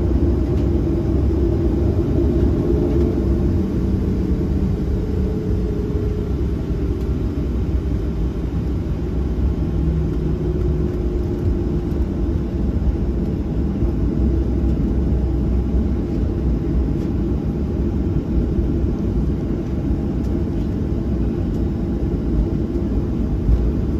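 Boeing 737-700 jet taking off, heard as a steady, heavy low rumble of engines and airframe from inside the cabin, continuous and unbroken throughout.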